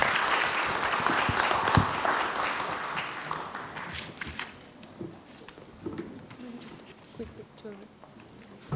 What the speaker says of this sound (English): the panelists deserve a round of applause for this